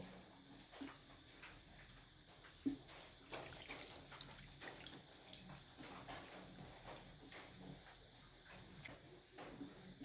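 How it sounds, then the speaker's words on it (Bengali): Water pours into raw katla fish curry with spices in a pot, a faint steady trickle and splash close by with small drips and a constant background hiss. "তো এখন আমি এখানে পরিমাণ মতো জল দিয়ে দেব"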